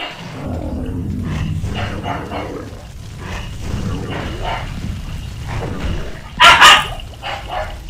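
A pet dog gives a few short, loud barks up close near the end, after a stretch of indoor room noise and muffled sounds.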